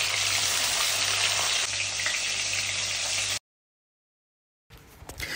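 Fish frying in well-heated oil in a wok, a loud, dense crackling sizzle that cuts out abruptly to silence and then returns.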